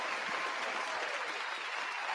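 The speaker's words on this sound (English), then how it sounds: "sometimes you got to give a round of applause to yourself" Applause from an audience, a steady wash of clapping hands that stays fairly faint and even for a couple of seconds.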